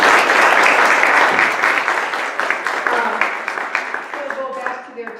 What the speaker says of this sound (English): So let's give everybody a round of applause here.